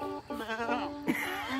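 A person imitates the bleat of an old goat with a quavering, harmonic-rich voice, delivering two drawn-out wavering bleats close to the microphone.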